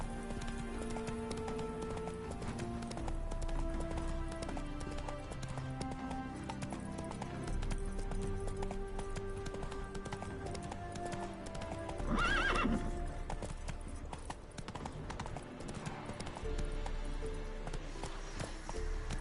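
Roach the horse gallops in the video game Witcher 3, with quick steady hoofbeats under background music and a loud neigh partway through before the gait carries on.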